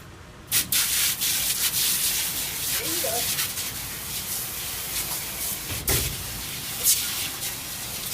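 A steel wool scrubber scrubs a meat slicer part in a sink, making repeated close rubbing and scraping strokes with a few sharper clatters.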